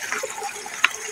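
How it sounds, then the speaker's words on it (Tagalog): A shallow rural stream flows nearby with a soft continuous rush and light trickling, plus one brief brighter splash. It lasts about a second with no voices. "Yun o, sapa."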